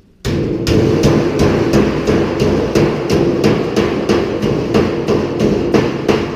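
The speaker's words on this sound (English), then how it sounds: "Further down the hammer so you don't hit your hands." Steady, evenly spaced hammer blows on a metal return drop elbow being fabricated, about two per second, sharp and ringing, close by and continuing without pause.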